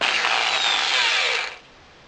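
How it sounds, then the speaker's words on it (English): Electric drill with a 3mm bit boring through clamped workpieces held in a vise, a loud steady high-pitched whine for about a second and a half before stopping abruptly. "I've got 2 electric drills here, one set up with a 3mm drill bit in it."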